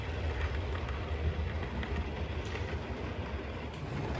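A model train rumbles steadily along its track while overtaking another train, a continuous low mechanical whir with faint clicking, fairly close.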